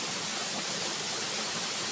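Steady, broadband rush of a waterfall in a mountain stream, running continuously at an even level with no breaks and no voices.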